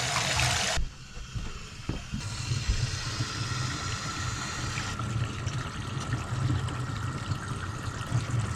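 Water runs into a bathtub during a leak test, a steady close rush and trickle that changes tone partway through as the flow shifts, continuing without talk.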